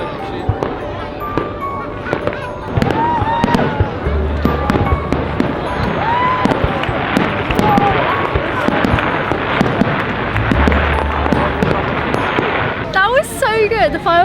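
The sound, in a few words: fireworks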